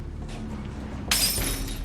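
Glass shatters in a Spider-Man movie scene, a sudden bright crash bursting in partway through after a quieter rumbling stretch, with glittering debris ringing on briefly afterward.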